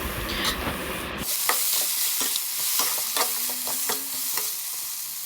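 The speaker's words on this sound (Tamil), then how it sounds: "தக்காளியும் போட்டு நான் வதக்கிக்கிறேன்" Tomatoes sautéing in a pan for brinjal kuzhambu give a continuous close sizzle, with a brief loud crackle at the start and then regular scraping clicks of a spatula stirring, no voices.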